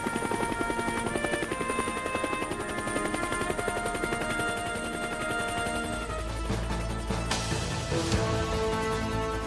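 A Bell UH-1 Huey helicopter's rotor thumps in a fast, steady rhythm over a whining turbine, loud and continuous throughout.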